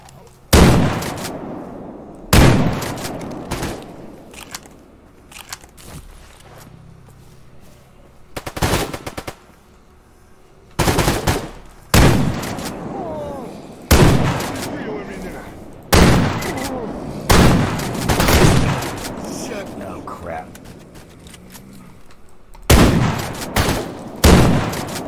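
Repeated bursts of automatic gunfire in the shooter game Stalker Anomaly Gamma, loud, close and broken into a dozen or so separate volleys with short gaps between them, with a voice speaking briefly among the shots.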